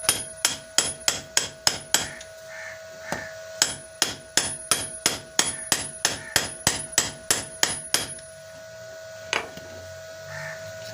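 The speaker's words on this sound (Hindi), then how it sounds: "ये बैरिंग को हमने सीधा ठोकना है" A new bearing being hammered into a washing machine motor: rapid runs of sharp metallic hammer blows in quick, regular bursts, close and clear, then a few slower final strikes.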